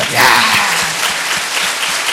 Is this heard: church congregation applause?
yes